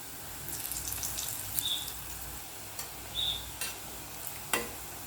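Plantain balls for vazhakkai kola urundai frying in hot oil, a soft, fairly quiet bubbling sizzle with occasional sharper pops and clicks, no voices.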